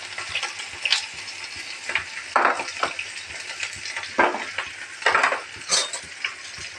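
Chopped onion frying in a pan for a potato curry: a steady, close hiss of sizzling oil, broken by short scraping clicks of a spoon stirring against the pan, with no voices.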